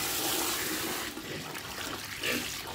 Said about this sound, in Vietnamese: Rồi chế nước vô.